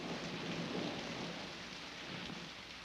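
Steady rain falls in an even, hissing wash with a low rumble underneath, continuous and moderately loud throughout, with no voices.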